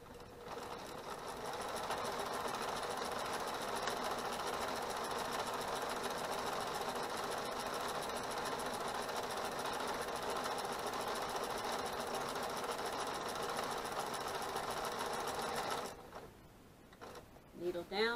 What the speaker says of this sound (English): put that needle down, and we're ready to start sewing